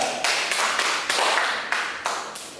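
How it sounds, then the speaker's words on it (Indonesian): Applause from a classroom audience after a student's presentation, a broad wash of clapping that surges and fades in several waves, fairly loud with no talking over it. "Baik, tepuk tangan untuk Anda."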